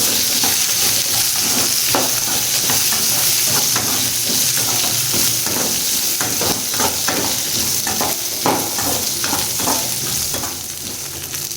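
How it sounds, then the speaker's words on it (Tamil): Whole shallots and peppercorns fry in hot oil for a mutton curry, a loud continuous sizzle with crackling pops and stirring scrapes throughout, no speech. "இந்த வெடிக்கிற ஸ்டேஜில் சின்ன வெங்காயம் ஒரு 15 சின்ன வெங்காயம் கட் பண்ணாமல் ரஃப்பாகவே வச்சுருக்கேன்."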